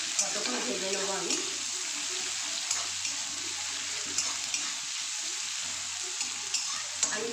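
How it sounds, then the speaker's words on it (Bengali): Two medium onions fry in a pan with a steady, even sizzle that carries through the whole stretch, with no talk over it. "2খানা দিয়েছি মিডিয়াম সাইজের পেঁয়াজ। ভাজা করে নেবো, যতক্ষণ না কালারটা চেঞ্জ হচ্ছে ততক্ষণ ভেজে নেবো আমি।"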